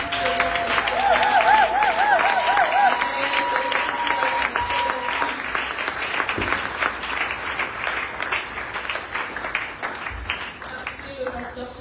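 A church congregation at an inaugural worship service applauds loudly and continuously, dense clapping filling the space for the whole stretch, with a voice and a brief wavering tone sounding over it early on.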